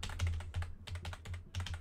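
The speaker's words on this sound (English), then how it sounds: "You can hear me clicking away in the background" Computer keyboard clicking away nearby during game prep, bursts of rapid key taps in several clusters separated by short pauses, fairly quiet.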